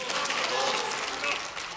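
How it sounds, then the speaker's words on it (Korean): Applause fills the National Assembly plenary hall in Korea, a dense, continuous patter of many hands that holds steady throughout with voices mixed in. "한쪽에서는 박수치고 한쪽에서는 야유하고"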